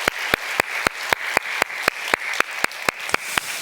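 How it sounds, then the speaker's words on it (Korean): Rhythmic unison clapping at a Sunday church worship service in Korea, a congregation beating steady, evenly spaced claps about four per second, moderately loud and without talk. "하나님께 영광의 박수 올려드리십시다"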